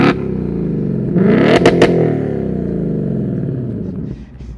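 A 2024 Ford Mustang GT convertible with quad exhaust tips is revved hard, a loud close burst of engine roar that climbs, holds, and settles back toward idle.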